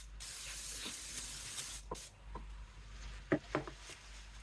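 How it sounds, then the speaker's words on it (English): Brake cleaner is sprayed around painted surfaces near a car's brake fluid cap: soft hissing aerosol bursts, several short sprays spaced apart, close but fairly quiet. "Now I'm going to take brake clean and spray around"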